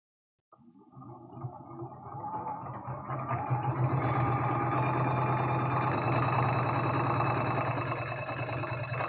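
A sewing machine stitches quilt block pieces along a drawn line, starting abruptly and settling into a steady, fast mechanical whir with rapid needle rhythm, close and alone.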